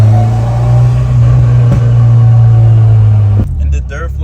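A 500 hp Honda Civic turbo engine idles with a heavy, steady low rumble close to the microphone, then shifts abruptly near the end.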